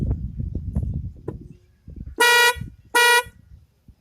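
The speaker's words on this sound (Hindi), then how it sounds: "मैंने अपनी बाइक में इंस्टॉल किए हुए हैं बिंटोन हॉर्न" Two loud blasts, each about a third of a second, from an aftermarket Bintone horn fitted to a motorbike with dual horns on separate switches. They ring out over rumbling engine and road noise.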